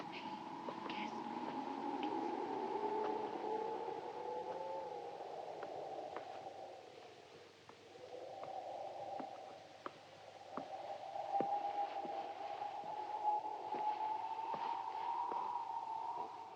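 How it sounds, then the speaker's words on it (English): Electronic film sound effects drenched in reverb and echo: slow, wavering tones drift and bend eerily over faint clicks, quiet and sustained throughout. "the electronic sounds, the reverb and the echo and the slowing down that he used were state-of-the-art at the time"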